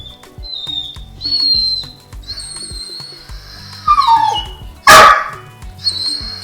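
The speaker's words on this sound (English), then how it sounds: "I'm actually doing it right now when he's still barking" A dog barks several times during a speak and hush training session indoors, loud and close, with whistle-like tones and faint background sounds between barks.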